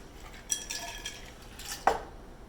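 Ice dropped into a glass for a ranch water cocktail with passion fruit and tequila, two bright clinking impacts about a second apart with small rattles in between, close and fairly quiet.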